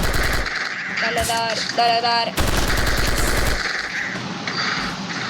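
Bursts of rapid automatic gunfire from the Free Fire video game crackle loudly in quick volleys, with players talking over the action.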